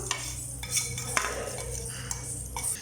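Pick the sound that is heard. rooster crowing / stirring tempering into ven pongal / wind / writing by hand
stirring tempering into ven pongal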